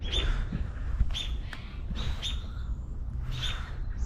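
A mother bird squawks and chirps near its nest in a backyard during yard work, repeated sharp calls with bright tones recurring over steady outdoor background noise.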